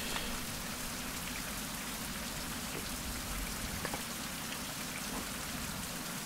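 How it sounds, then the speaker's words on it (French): Steady rain falls in the video game Fountain Of Youth, a dense, even hiss of drops with scattered brighter patter throughout, with no voices. "Il pleut, nul."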